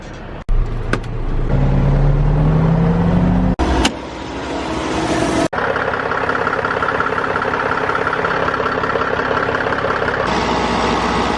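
A truck engine idles at a grain bin with a steady low rumble throughout, broken by a few sharp knocks and clicks and a brief shift in tone partway through.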